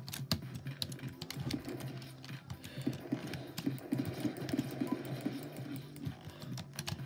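Computer keyboard typing heard faintly as a steady patter of soft key clicks over a low background hum, continuous and fairly quiet throughout.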